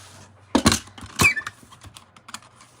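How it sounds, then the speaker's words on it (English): A paper trimmer slices a straight edge on craft paper for a snowman ornament, heard as a couple of short, close swishing cuts with light handling clicks afterward. "I'm going to make a snip like right there, and then I'll cut it straight with my trimmer"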